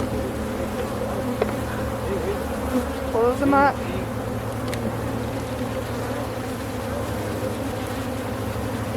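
Honey bees buzzing loudly and steadily as a mass of them is dumped into a basket at a bee club gathering, a dense continuous hum with a brief voice speaking over it.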